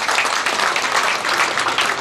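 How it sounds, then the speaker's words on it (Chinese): A hall audience at a Guangdong community associations' policy forum in Hong Kong claps together, making a loud, dense, steady wash of applause throughout. "大家统一鼓掌"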